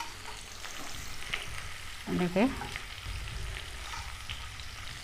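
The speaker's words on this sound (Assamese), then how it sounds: "এতিয়া মই ৰঙচুৱা হোৱালৈ ভাজি ল'ম।" Chopped onions with whole spices and bay leaves sizzle steadily in a hot pan, a soft continuous frying hiss with a brief scrape of stirring midway and a short spoken word over it.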